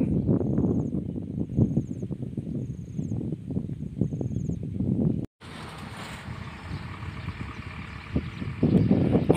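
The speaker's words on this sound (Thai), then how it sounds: "อยู่ที่เขื่อนป่าสักก็คือนะครับคลื่นลมแรงครับเพื่อน" Strong wind whips across the Pa Sak Jolasid Dam reservoir in Lopburi, where the water level is low, producing loud buffeting rumble on the microphone that briefly cuts out, then a steadier windy hiss with waves lapping.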